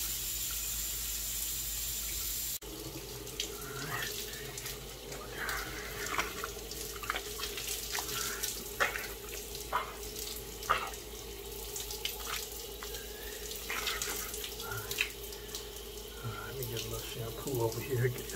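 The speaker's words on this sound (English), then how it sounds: "So we in the shower right now" Shower water runs steadily throughout, a continuous hiss with scattered splashes and drips as someone washes, with no talking over it.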